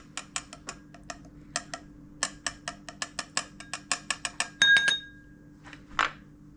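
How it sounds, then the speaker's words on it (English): Soy sauce and wasabi are stirred in a small dish, giving a quick run of light, crisp clinks, close and otherwise quiet, ending with a brief scraping sound. "And just stir it a little bit."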